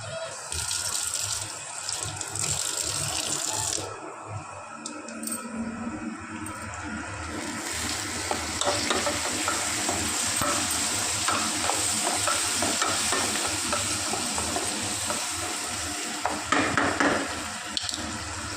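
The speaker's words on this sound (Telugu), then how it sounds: "కొంచెం కరివేపాకు వేసుకున్నాం ఫ్రెండ్స్ కడిగి" Washed curry leaves fry in a hot pan with a loud, continuous sizzle and crackle, with stirring scrapes and a brief watery gush partway through, steady and close for the whole stretch.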